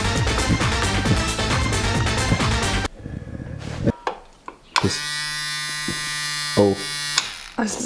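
An electric tattoo machine hums with a steady, fairly quiet electric buzz, close by, after a stretch of loud music and some handling noise, with no voices over it.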